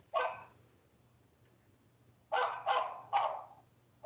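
A dog barks indoors, one sharp bark and then, after a pause, three quick barks in a row, loud and close against a quiet background.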